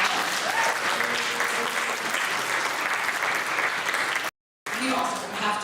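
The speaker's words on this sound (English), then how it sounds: "Please give them all a round of applause." A live audience claps steadily for several seconds at a virtual concert event, dense and fairly loud, with a brief cutout near the end before the clapping resumes.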